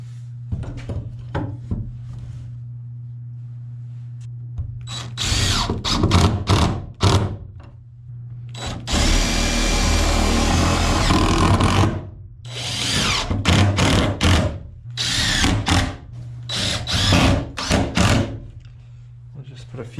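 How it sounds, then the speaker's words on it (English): A power drill drives screws into a wooden baby goat shelter in several bursts, a few of them short and one long sustained run. People talk between and over the drilling. "Put a few screws in for now, and then we'll make sure it works good before we put all the screws in."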